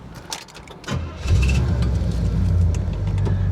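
A 1970 Pontiac GTO convertible's rebuilt, bored-out 400 cubic inch V8 cranks, catches and settles into a loud, steady idle close by, with a faint jingle of keys before it starts.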